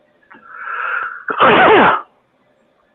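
A single loud sneeze close by, with a drawn-in breath followed by a sharp, forceful burst, then silence.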